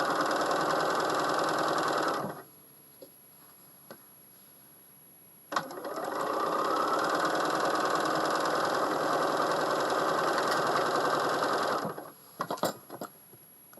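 A sewing machine stitches quilt fabric for a disappearing nine-patch charity quilt, running in two steady, close whirring bursts separated by a short quiet pause with a few small clicks.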